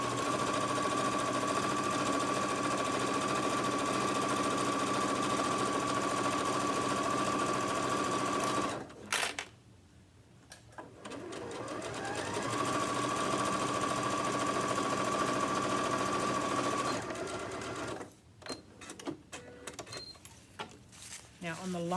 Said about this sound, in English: we're going to sew this closed along the bottom